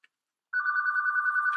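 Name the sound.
house phone ringing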